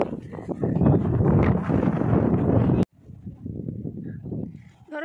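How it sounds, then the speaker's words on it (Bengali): Sea breeze at Bakkhali beach buffets the microphone in loud, gusty roars, cutting off abruptly and then returning as a softer, unsteady rush of wind. "হাওয়া কিন্তু খুব ভালো দিচ্ছে।"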